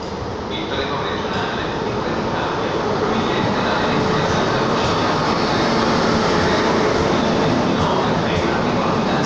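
A fast Italian train rushes past in a loud, continuous roar of wind and rail noise that holds steady throughout.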